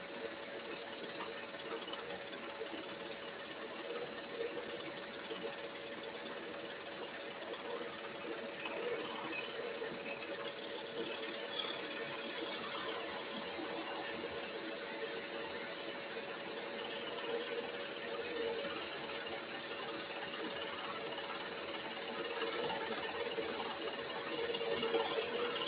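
A scroll saw cuts a wooden 3D Christmas tree decoration, its blade buzzing in a steady, continuous mechanical whir that holds for many seconds at moderate loudness, without voices.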